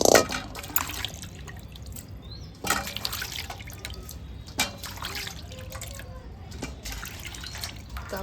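Potatoes are washed under running water, with a continuous splashing trickle and scattered drips and clunks as they are handled, close and fairly loud throughout.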